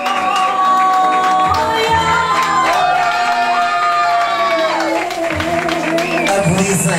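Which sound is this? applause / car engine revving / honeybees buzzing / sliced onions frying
applause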